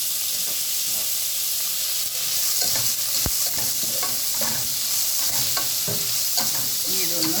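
Onion and green chilies sautéing in a pan, giving a steady loud sizzle and hiss with frequent close stirring scrapes throughout, and a brief word spoken partway.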